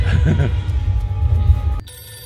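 A telephone rings in short repeated bursts, first under a low hum and muffled voices, then ringing alone and clearly at the end.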